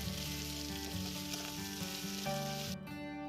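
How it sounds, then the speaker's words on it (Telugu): Prawns fry in oil in a kadai, a loud steady sizzle with a bright crackling hiss that runs throughout, briefly shifting as the pan is moved. "రొయ్యల్ని కొంచెం నూనెలో ఫ్రై చేసుకోవాలి."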